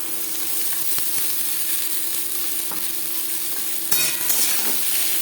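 Potato pieces fry in a pan with nigella seeds and chili, giving a steady, even sizzle. Near the end a sharper burst of crackling sounds as the contents are stirred or added.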